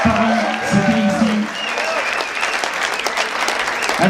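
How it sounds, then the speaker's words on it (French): A crowd applauds and cheers for Pascal Pich, the ultra-triathlete, at the Double Ironman Europe finish, with loud, sustained clapping while a voice talks over the start of the ovation. "Donc on applaudit très très fort Pascal Piche"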